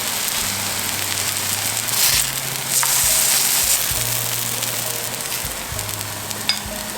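Small dill pancakes sizzle steadily in a frying pan, a constant close crackling hiss with a brief clink of a utensil partway through and no talking.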